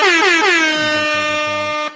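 A single loud air horn blast blares for about two seconds, its pitch sliding slightly at the start before holding steady and cutting off.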